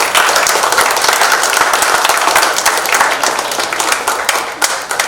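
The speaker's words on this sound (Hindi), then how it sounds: "ताली मारो।" A crowd on a television serial set claps and applauds at a birthday celebration, loud dense clapping that continues steadily throughout.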